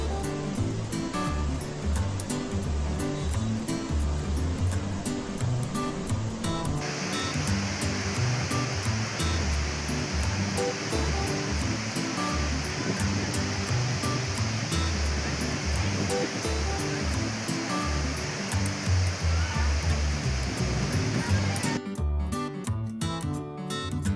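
Bogatha waterfall in full monsoon flow, a loud continuous rushing roar of water that holds steady and close for the whole stretch without pause.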